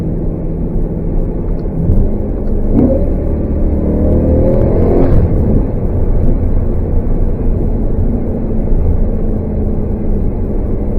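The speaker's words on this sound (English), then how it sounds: "I just wanted you to listen to the sound of this exhaust." A BMW E90 M3 with an aftermarket version 2 exhaust revs hard, its note climbing twice in quick succession before it settles back into a steady, loud rumble close by.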